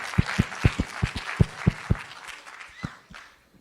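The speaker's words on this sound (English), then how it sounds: "That deserves a hand clap." A small audience gives a few scattered hand claps, loud separate slaps at an uneven rhythm for about two seconds, then tapering off into sparse, fainter claps.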